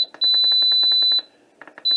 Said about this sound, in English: Now the annoying beep.